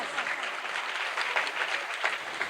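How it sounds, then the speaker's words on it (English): Audience applause at a school investiture ceremony, steady and dense clapping from a large crowd with no voices over it, holding evenly throughout. "Let us give them big round of applause for their hard work and commitment"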